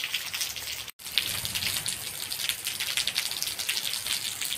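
Heavy rain pours outside in a dense, steady hiss of drops splashing on surfaces, broken by one very brief gap near the start, with no voices.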